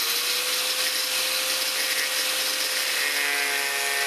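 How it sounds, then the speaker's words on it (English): Cutoff wheel grinding through a U-joint on a Duramax truck, a steady close high-pitched whine with a hissing, abrasive edge that holds without a break and shifts slightly in pitch near the end, with no talking. "I'm going to cut it right there."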